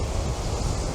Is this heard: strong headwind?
yes